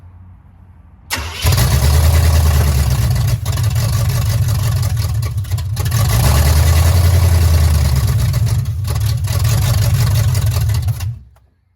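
A carbureted Chevrolet C10 truck engine cranks and catches, then runs loudly for about ten seconds with a lumpy, uneven idle and surging revs before it cuts off.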